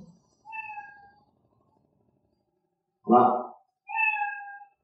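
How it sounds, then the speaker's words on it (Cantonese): The Scratch cat meow sound effect playing from a computer speaker: two clear, clean meows separated by a pause, with a short spoken remark between them in an otherwise silent room. "係聽到貓叫聲㗎啦"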